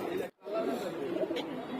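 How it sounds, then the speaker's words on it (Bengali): Pigeons caged at a pigeon racing tournament, waiting to be stamped, coo softly in low murmuring tones amid a busy crowd background, with a brief hush early on. "তো এই যে কবুতরগুলো এখানে রাখা হয়েছে"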